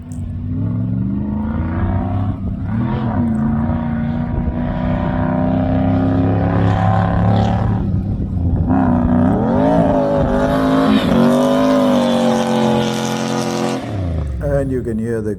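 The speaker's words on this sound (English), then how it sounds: "you can hear the green monster is struggling to get out of there" An off-road vehicle engine labours up a Namibian sand dune, its loud, continuous rumble rising and falling in pitch as it strains, with people talking over it.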